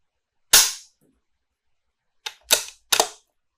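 Simulated gunshots from the Virtual-Shot shooting simulator: one sharp crack, a pause, then three quick cracks in succession, loud and close against silence.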